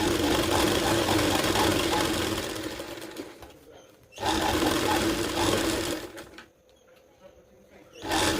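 A sewing machine stitches fabric for a girl's blouse, running close in long, steady whirring bursts of a few seconds, broken by short pauses where the stitching stops.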